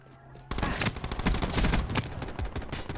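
Rapid bursts of video game gunfire erupt after a brief quiet lead-in, dense overlapping shots crackling loudly and continuously for a few seconds.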